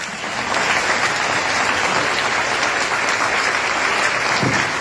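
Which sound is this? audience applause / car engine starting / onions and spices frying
audience applause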